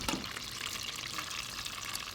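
Soft, steady crackling sizzle of mushroom and sweet pea arancini deep frying in hot oil, continuous and fairly quiet, with no talking.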